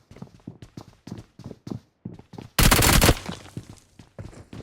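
Footsteps in a video game's sound training mode, a steady run of distinct hard footfalls that briefly pause, then resume after a sudden loud burst of noise.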